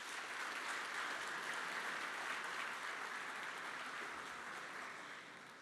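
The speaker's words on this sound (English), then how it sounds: "So give yourselves a round of applause." Applause from the audience at the 2025 Panther Awards athletic department ceremony, a dense, steady wash of many hands clapping for about five seconds before tapering slightly at the end.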